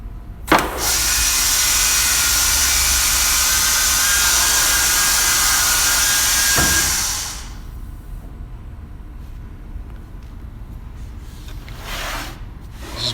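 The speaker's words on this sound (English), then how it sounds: "And now we will do some quick drilling." A loud, whining SCMI Top 35 line boring machine runs steadily for several seconds as it drills into wood, then winds down, leaving quieter clunks and faint handling noises.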